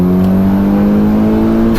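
A modified car's engine holds a steady, loud drone with a strong low hum, revving under acceleration in third gear from about 3,500 to 4,000 rpm without letting up.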